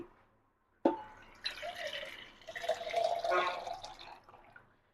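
Water is poured from a vessel into a pot of rice for wedding-style Dindigul biryani, a close splash after a brief silence, then a steady gurgling pour that tapers off.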